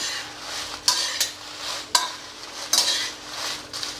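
Dried red chillies roast in a hot pan while being stirred, giving a dry rustling scrape broken by several sharp, close clacks at irregular intervals, with no voices.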